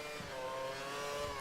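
A racing car in a video game revving hard at full throttle as it tries to overtake, a steady loud engine whine holding high revs throughout.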